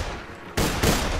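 A hard-recoiling gun in Borderlands 2 fires two loud, sharp blasts about a quarter second apart after a short, quieter stretch.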